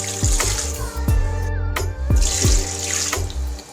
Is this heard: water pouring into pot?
yes